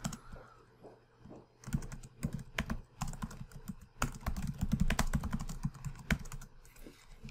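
Rapid typing on a computer keyboard, close and crisp, with bursts of key clicks in uneven rhythm and brief pauses between runs.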